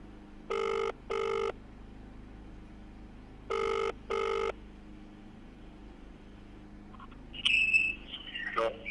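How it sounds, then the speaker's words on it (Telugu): Outgoing telephone ringback tone for a call placed to an MLA's phone, sounding two paired double rings, followed by a short burst of electronic beeps or a connection tone near the end. "పటాన్చేరు ఎమ్మెల్యేకి ఫోన్ చేస్తున్నా."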